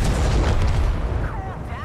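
Tank cannon shot in a tank video game: a loud, heavy boom with a rumbling low end that fills the short moment, followed by fading battle ambience.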